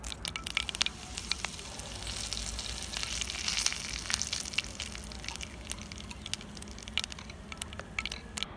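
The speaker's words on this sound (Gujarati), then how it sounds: "જુઓ આટલા પ્રમાણમાં હિંગ તળાય તો તેમાં આપણે કઢી લીમડી ઉમેરી દઈશું" Curry leaves and asafoetida sizzle in hot oil with a soft, continuous crackle and frequent sharp pops, steady and fairly close.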